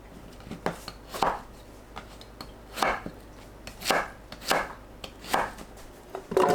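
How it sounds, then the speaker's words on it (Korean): Zucchini being cut into large pieces with a knife on a cutting board, a slow, fairly regular series of about eight crisp close chops. "애호박도 큼직하게 썰어주세요."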